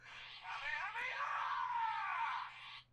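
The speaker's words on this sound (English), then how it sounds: "Well, now you've heard my phone's ringtone." A mobile phone ringtone plays as a bright, continuous warbling melodic tone lasting nearly three seconds, fairly quiet, over a low steady hum.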